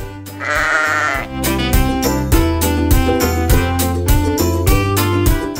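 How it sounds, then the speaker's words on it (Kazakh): A short bleat from an argali wild sheep rises over steady, rhythmic background music, followed by the music continuing alone with a regular beat. "Арқар мекіренеді."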